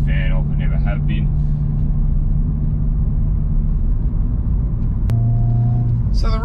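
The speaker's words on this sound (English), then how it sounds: "we're doing about 60 k's now, and you can listen to the road noise." Cabin road noise inside a 2021 Hyundai i20N cruising at about 60 km/h, a steady low rumble of tyres and engine that stays even and fairly subdued, with a few brief voice sounds at the start and end.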